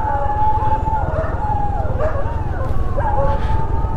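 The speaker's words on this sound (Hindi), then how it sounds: "क्यों अल्लाह मचा रहे कुत्ते, क्या दिख गया" Several street dogs howl in long, wavering overlapping cries with occasional barks, heard at moderate distance over a steady low engine hum from a delivery rider's motorbike.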